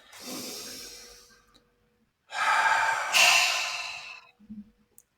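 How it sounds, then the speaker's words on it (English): A person takes two slow, deep breaths during a calming therapy-style session, each a soft airy rush of inhaling and exhaling close to the microphone, the second longer and louder, followed by a brief faint murmur; no speech. "Take a deep breath."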